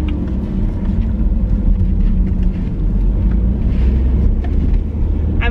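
A car drives slowly around toward a parking area, heard from inside the cabin as a loud, steady low engine and road rumble with no pauses.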